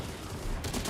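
Rapid gunfire bursts from a shooting video game, loud and continuous across the moment, growing denser and brighter partway through.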